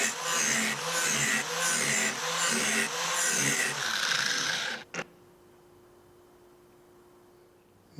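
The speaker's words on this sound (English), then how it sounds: "So I'm just going to keep grinding from the top until we get through some of this." An All American Sharpener grinds an old, dull mower blade, a loud, close, continuous abrasive whir with rhythmic pulses that stops abruptly near the end, leaving faint background hum.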